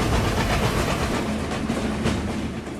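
The Tungipara Express rolls in at a Bangladeshi station, a loud continuous rumble of wheels and carriages with faint clickety-clack beats and hissing throughout.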